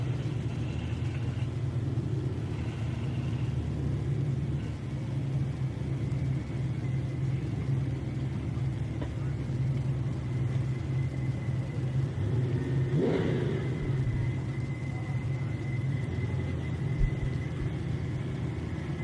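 A supercharged C7 Z06 Corvette and a Fox body Mustang idle and rev while staging at a drag strip. The engines make a steady, loud, low rumble with a brief surge partway through.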